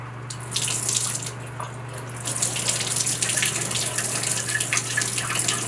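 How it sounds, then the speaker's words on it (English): Water runs steadily from a shower as a Moen valve is turned back on after a cartridge repair, a continuous splashing hiss that swells slightly after a couple of seconds, with no voices. "So I'm going to go kick the water back on."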